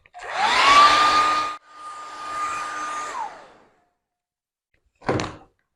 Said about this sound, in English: So I'm just going to dry this off.